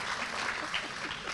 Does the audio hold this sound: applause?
yes